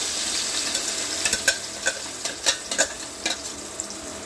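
A paste of ground cinnamon, clove, nutmeg, mace and black cardamom fries in hot oil for an egg rezala. It makes a steady near sizzle broken by several sharp spatters and stirring clicks, with no voices.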